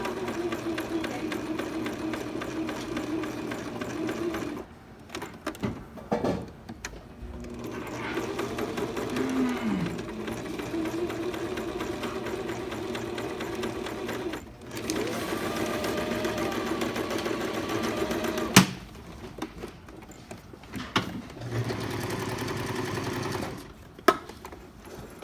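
A sewing machine runs in several bursts of rapid, even stitching while stay stitching the outward curve of a princess seam, stopping and starting between runs, with a quiet voice talking in the pauses.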